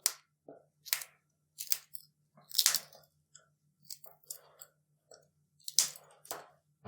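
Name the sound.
breaking green chillies by hand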